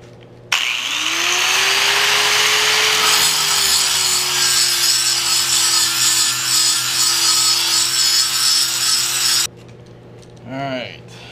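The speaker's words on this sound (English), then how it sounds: "now I'm just going to clean it off with a handheld grinder here" Handheld grinder cleaning a heat-treated Bowie knife blade, a loud continuous whirring grind that holds steady for several seconds before cutting off, followed by a brief faint voice.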